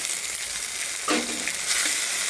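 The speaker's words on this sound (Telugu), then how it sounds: "మిరపకాయలు మంచిగా ఫ్రై అయినాయి కదా" Red chillies and tomatoes sizzle and fry steadily in a pan while tomato dal is being made, a loud continuous crackling hiss with a brief stir partway through.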